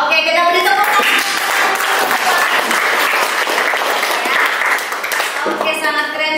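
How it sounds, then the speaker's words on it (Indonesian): Schoolchildren in a classroom clap together in a loud, dense burst of applause lasting several seconds, with voices cutting in at the start and end. "Oke, kita beri tepuk tangan."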